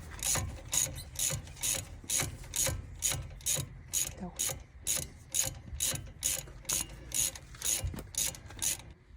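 A ratchet undoes the brake caliper screws on a Peugeot 508, giving a steady series of loud, close clicking strokes in a regular rhythm with no voices.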